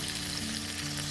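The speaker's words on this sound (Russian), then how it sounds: "Обжариваю 30 секунд, долго жарить не нужно." Chicken and garlic sizzling in a frying pan, a dense, steady crackle that goes on throughout the short stretch with no talking.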